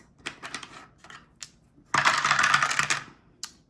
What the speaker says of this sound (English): Got flying dice.